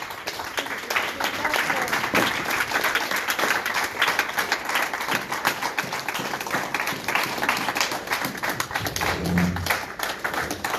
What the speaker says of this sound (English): give these 6 people a huge applause